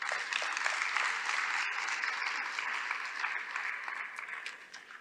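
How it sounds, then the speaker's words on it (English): Steady audience applause at an evening conference dinner event, a dense wash of clapping that holds throughout and slowly fades toward the end. "can I ask that we give him a round of applause?"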